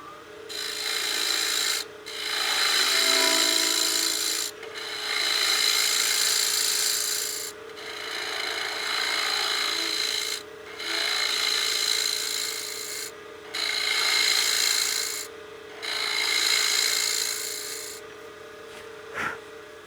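Wood on a lathe is cut back with a skew chisel while turning a utility box, giving a harsh, rasping scrape in repeated passes of two to three seconds, separated by short pauses over a steady motor hum.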